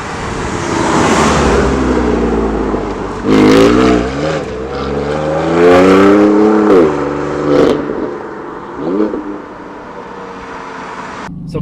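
BMW M4 CS engine revving from inside the cabin, loud and steady, with rising and falling harmonic sweeps as the revs climb and drop several times before easing off near the end.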